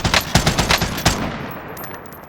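Gunfire from Call of Duty: Warzone, with a loud burst of rapid automatic shots fading into a few fainter, more distant pops and a quiet tail.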